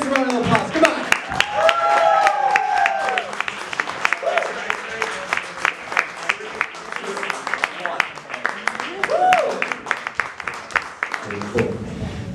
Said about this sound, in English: Give them the biggest round of applause.